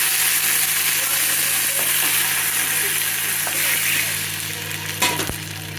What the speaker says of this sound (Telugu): చూడండి మంచిగా చిట్ చిట్ చిట్ అని మంచిగా వేగాలి